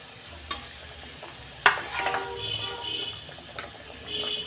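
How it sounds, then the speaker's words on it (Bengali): Catla fish pieces cooking in a bubbling spice sauce make a low, wet simmering sizzle, punctuated by a few sharp clinks and a stronger splash as the pieces go in. "মশলাটা ফুটে গেছে, আমি মাছ 4টে দিয়ে দিচ্ছি"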